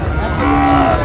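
A cow, likely a Sahiwal, gives a single loud, close moo at a busy cattle market, a sustained low drawn-out call lasting about a second over background murmur.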